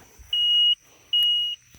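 Two steady high-pitched electronic beeps from a Ryobi RM480EX electric riding mower, each lasting under half a second, separated by a short gap, close and clear.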